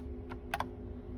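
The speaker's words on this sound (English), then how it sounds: "The way that we're going to do that is using the keyboard. We'll do Control F" A couple of quick key presses on a computer keyboard, used for a Control F shortcut, give short soft clicks close by over a low steady electrical hum.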